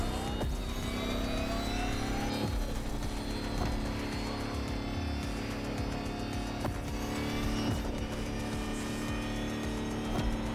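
An electric Lamborghini concept hypercar drives in The Crew Motorfest, its steady synthetic motor whine and road rumble running loud and unbroken throughout, with no voices.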